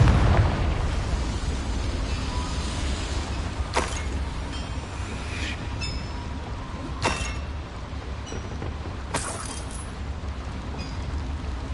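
Confringo blasting spell explosions in the video game Hogwarts Legacy, set in a mine: three sharp, loud blasts spaced a few seconds apart over a steady low rumble, with no voices.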